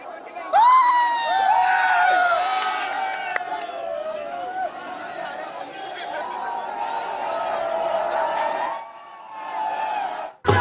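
Cricket fans celebrating Team India reaching the T20 World Cup final in Mumbai, a loud crowd cheering and whooping continuously, with shouts and chatter and a band playing, dipping briefly near the end.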